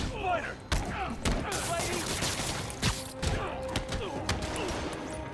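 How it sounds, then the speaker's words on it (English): A gunman fires at the player in Spider-Man Remastered, several sharp shots and impacts scattered through a busy city combat scene, close and fairly loud. "Oh, this guy's shooting at me?"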